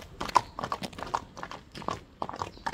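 A horse walking with a foal, its hooves clip-clopping in a quick, even rhythm of sharp knocks, close and clear, with no talk over them.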